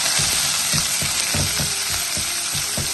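Beans thoran stir-fry sizzling steadily in a pan while a spoon scrapes and tosses it in a regular rhythm of soft knocks, close and continuous with no talking.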